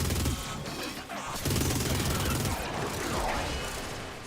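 Minigun in the video game Warframe firing on full automatic, a dense, sustained rattling burst with brief breaks, loud and harsh with mechanical whirring underneath.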